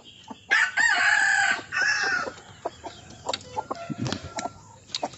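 Native chickens in a small yard, a rooster crowing loudly up close followed by a string of short clucks and scratchy yard noises.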